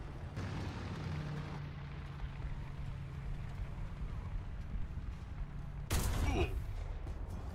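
In a War Thunder tank battle, a French AMX-turreted tank fires a single loud cannon blast near the end, over a constant low engine rumble and battlefield noise.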